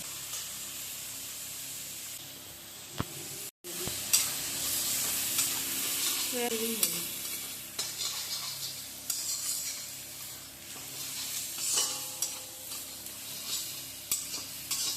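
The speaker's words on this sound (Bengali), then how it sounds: "এটা একটু ভাজা হবে তারপর চাউমিনগুলো দিয়ে দিব" Ingredients frying in a pan before chowmein noodles are added, a continuous loud sizzle with utensil stirring scrapes and clinks, close up, a brief dropout early on, no talk.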